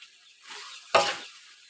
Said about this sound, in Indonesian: Kemudian kita aduk lagi